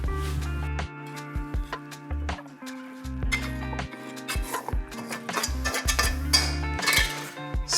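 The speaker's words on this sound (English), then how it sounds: "Let's put it on a plate." Tomato fried eggs being moved from a pan onto a plate, with repeated metallic scrapes and clinks of utensil on pan and dish set over a steady low hum.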